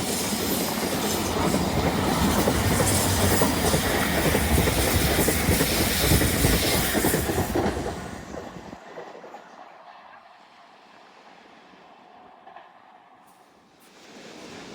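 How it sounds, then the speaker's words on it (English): A train rumbles past close by with rhythmic clacking, then fades away after several seconds, leaving quieter background ambience. "Bye bye poppy train."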